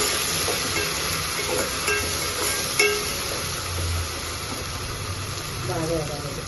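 Spiced masala sizzling steadily in a hot pan, a continuous frying hiss with occasional stirring scrapes and clinks, faint background hum beneath.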